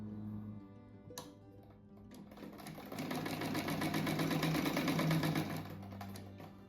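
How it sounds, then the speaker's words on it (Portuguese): Near the end of a fabric rug project, a sewing machine runs close by in a short steady burst of rapid ticking stitches as it reinforces the seams, after a quiet stretch with a faint click. "aqui eu dou uma reforçada neles na máquina aqui, pra quando eu for virar, ele não ficar descosturando os pontinhos"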